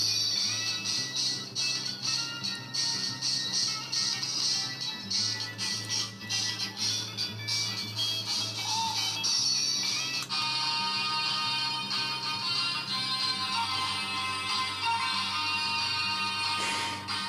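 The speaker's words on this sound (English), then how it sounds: "I think this is just what this particular pachinko slot machine sounds like." A pachinko slot machine plays a dense, continuous wash of bright electronic jingles, chiming tones and rattling balls, loud and busy throughout with a shift in the music partway through, with no talk.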